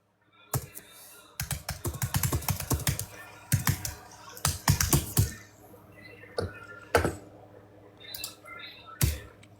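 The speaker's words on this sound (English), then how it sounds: "if you keep banging that keyboard, it's not going to work tomorrow." Loud, fast typing on a computer keyboard comes in uneven bursts of hard clacking keystrokes, close by, with short pauses between flurries.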